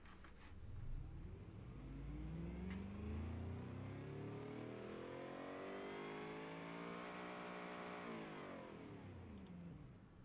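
A randomly built car engine in the Automation game revs up and holds a rising, muscular tone, then eases back, loud and steady with no talk over it.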